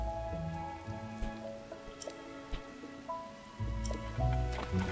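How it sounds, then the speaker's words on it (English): Rain falling in a video game, a steady patter of drops under tonal music and game effects, continuous and moderately loud with no talk. "is the rain getting you down?"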